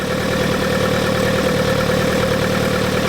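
A Hillman Hunter GLS engine with twin Weber DCOE carburettors idles steadily to warm up, a continuous close, even rumble with a low throb and no voices.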